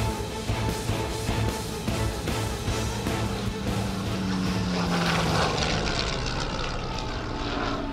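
A historic Spitfire of the Hellenic Air Force flies at a public air display, its propeller engine giving a loud, steady drone with a slowly shifting pitch, with no voice over it.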